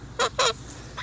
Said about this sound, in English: You silly birds. Silly goose. Silly goose.